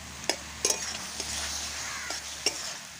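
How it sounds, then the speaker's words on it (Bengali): Fried prawns and steamed taro leaves are stirred in a pan over a soft continuous sizzle, with several sharp spatula scrapes and clacks against the pan, close and fairly quiet. "নেড়ে দেব।"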